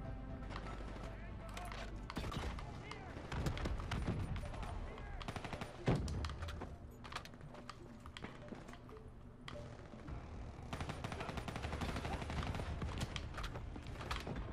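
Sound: gunfire in video game Black Ops 3

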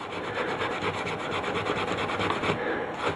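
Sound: steel wool rubbing toner off copper circuit board

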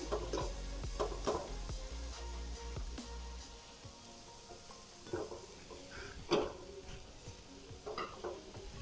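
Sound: stirring coconut vadi mixture in a pan

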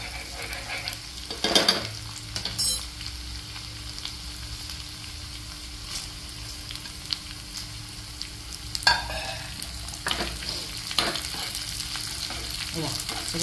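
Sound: spices and red chili frying in hot oil

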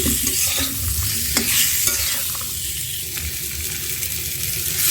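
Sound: raw mango frying in a pan

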